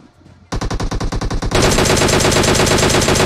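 Video game gun firing in rapid automatic bursts, a short staccato volley followed by a dense continuous stream of loud shots, close and dominant with no talk over it.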